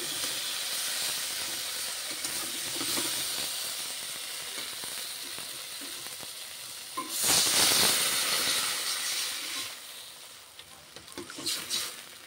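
Water is poured onto sizzling spice paste in a pan for a bata fish curry, a steady hiss swelling into a loud burst of steam midway before easing off.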